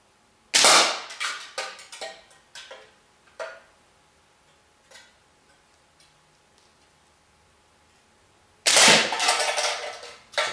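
A slingshot fitted with doubled balloon bands is shot outdoors, giving two sharp loud snaps, the first followed by a scatter of fainter ticks and clicks, the second a louder burst near the end.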